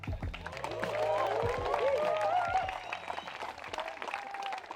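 A modest crowd of golf spectators applauds at a 2023 professional tournament round, with light, steady clapping running under a commentator's voice throughout.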